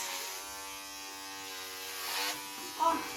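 An electric hair clipper buzzes steadily while cutting a child's hair, a thin whining hum that swells briefly near the end, with voices talking alongside.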